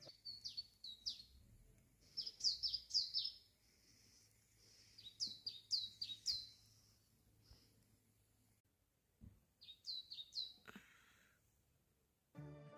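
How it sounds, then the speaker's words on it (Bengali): Small birds chirp in quick, bright clusters of high whistled notes at Khajjiar near Dalhousie. The calls are clear but fairly faint, separated by near-silent pauses over a quiet outdoor background. "পাখিগুলো এত সুইট ভাবে ডাকছে"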